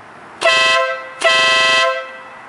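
An air horn gives two loud blasts in a row, the first short and the second longer, with a brassy, bright tone and no talking.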